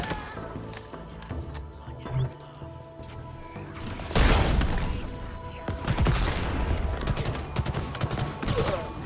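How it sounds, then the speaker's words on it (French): Halo Infinite gameplay combat: bursts of rapid gunfire and a grenade blast rumble through a busy battle mix, loud and layered with repeated shots and a heavy explosion midway. "Oh non, c'est quoi cette grenade?"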